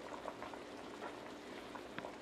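Braised duck wings with bay leaves simmer gently under a lid on low heat, giving a soft, steady bubbling with scattered small pops, faint and alone.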